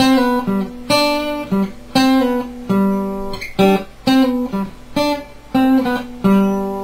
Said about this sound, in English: just that little pull off to the third, and then play the root of the chord